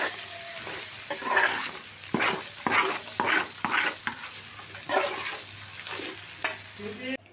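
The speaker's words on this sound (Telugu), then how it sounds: "పెసరపప్పు మొత్తం ఆయిల్లో 1 నిమిషం మనం ఇలా ఫ్రై చేసుకోవాలి." Moong dal fries in hot oil with a steady sizzle while a spoon stirs and scrapes the pan in repeated strokes, close and fairly loud.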